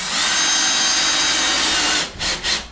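Cordless power drill driving a screw through a drywall patch, a loud steady whirring burst for about two seconds, then two short trigger pulses as it eases off near the end.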